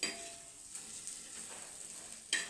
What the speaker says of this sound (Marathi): थोडीशी केली मी आता कांद्यात आणि चटणीत गरम